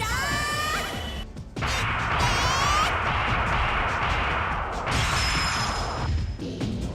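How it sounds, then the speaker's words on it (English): A shattering crash from the video game Legend of Legaia bursts out loudly and is mixed with sweeping, whooshing synthetic tones that rise and fall over several seconds. "That shattering sound."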